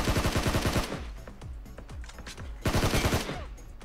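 Rapid bursts of automatic gunfire in the video game PUBG Mobile, loud and close, with a dense volley, a short gap of scattered single shots, then another sustained burst.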